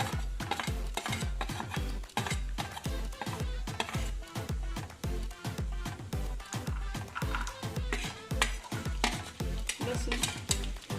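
Mustard seeds and cumin are tempered in hot oil for Marathi-style mung dal, with a spoon scraping and clattering against the pan in quick, steady rhythmic strokes over a soft underlying sizzle.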